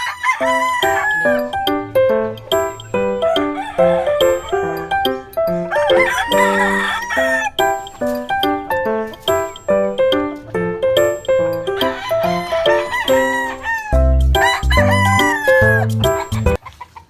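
Gamefowl roosters, a cross of roundhead Boston and white Kelso, crow loudly and repeatedly nearby, their calls overlapping almost continuously, with occasional clucks.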